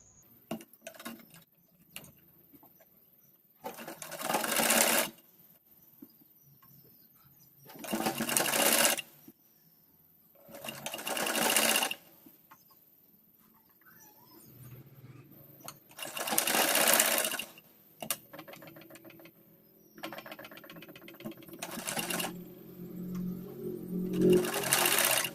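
Sewing machine running in several separate bursts of a few seconds each while it stitches a folded fabric strip onto a kurti neckline, with quiet pauses and handling noise between the runs.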